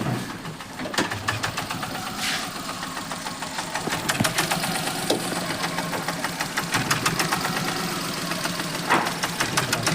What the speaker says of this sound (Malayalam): അപ്പോൾ വണ്ടി സ്റ്റാർട്ട് ചെയ്ത് നോക്കിയപ്പോൾ വണ്ടി നല്ല മിസ്സിങ് ഉണ്ട്